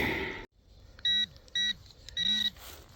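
A metal detector sweeping over a buried target at an early homesite gives three short, clear electronic beeps in an even rhythm, heard close with faint background noise and no talking.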